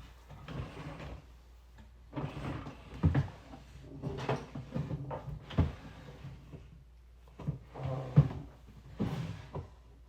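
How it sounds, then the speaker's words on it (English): Someone rummages through a drawer hunting for small scale-model kit pieces, producing a run of irregular clunks, knocks and rattling shuffles close by, with brief pauses between bursts. "I've hid them away in one of my drawers. I'm kind of looking for them."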